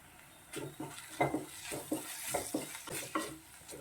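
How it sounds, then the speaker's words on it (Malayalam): Onions and tomatoes sautéing in a pan for potato masala, soft sizzling under repeated scraping stirs of a spoon against the pan in a steady rhythm, faint and close. "ഉള്ളിയും തക്കാളിയൊക്കെ നന്നായിട്ട് വഴന്നു വരുന്നുണ്ട്"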